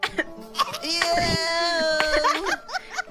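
A person coughs several times in short bursts, close by, mixed with other voice sounds such as giggling, and talk around it.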